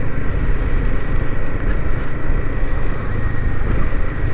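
A Royal Enfield Himalayan 450 motorcycle warms up outdoors on a cold day. Its engine gives a steady low rumble that is masked by heavy wind buffeting on the microphone.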